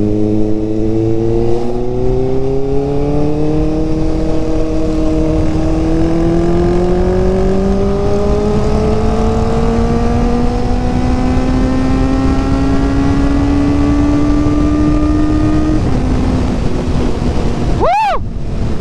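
Riding a Kawasaki Ninja ZX4RR, the engine whines loud and steady and its pitch climbs slowly through a long pull over heavy wind rush. A short sharp sweep cuts in near the end.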